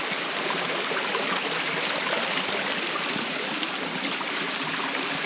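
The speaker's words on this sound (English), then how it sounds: "Quite a lot of water running today." Stream water runs steadily over a ford crossing on a route from Rosslyn to Lasswade, a loud, continuous broadband rush close by with no voices.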